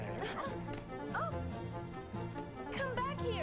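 Cartoon dog in an animated Titanic film yapping and whimpering in several short, high-pitched bursts, with a music score running underneath.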